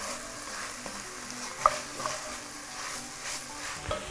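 A generous batch of onions fries gently in a pan, giving a quiet, steady sizzle with occasional faint stirring clicks.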